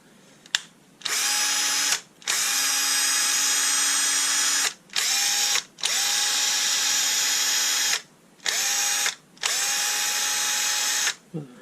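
A Bosch 10.8V cordless drill driver being restored, its motor whirring loudly in several bursts of a few seconds each, separated by short pauses with brief clicks between runs.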